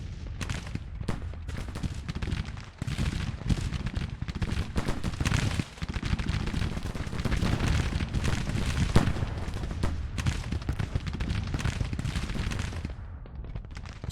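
Musket and rifle fire crackles across a Civil War battlefield in Grand Tactician, a dense, continuous rattle of overlapping shots with heavier booms mixed in, steady and loud throughout.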